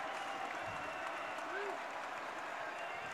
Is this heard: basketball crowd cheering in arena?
yes